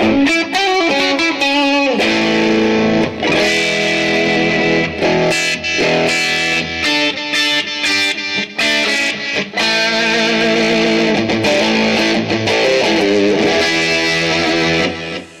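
An electric guitar through an Empress Effects Multidrive distortion pedal plays heavily distorted chords and riffs, loud and continuous, with crunchy overdriven tone throughout.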